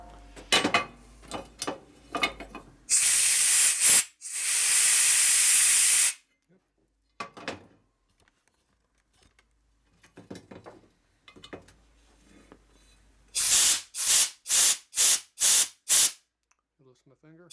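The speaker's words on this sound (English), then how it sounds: "So let's go over here and blow the air through it." Compressed air blown through an oil passage of a rebuilt 1946 Harley knucklehead stroker engine, loud hissing bursts: one long blast, then a run of short rhythmic puffs, with someone talking in between.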